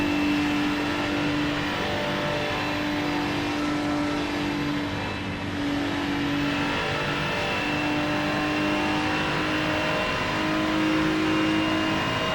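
A car engine pulling hard through the gears toward the limiter in fifth, a loud continuous drone with steady tones that shift in pitch, heard close and without talk.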